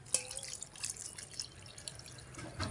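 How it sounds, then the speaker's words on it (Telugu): Water is poured into strained tamarind pulp during Ugadi pachadi preparation, a faint, soft trickling and dripping with small splashes, close by and quiet. "అలాగే వాటర్ పోసుకుందాము."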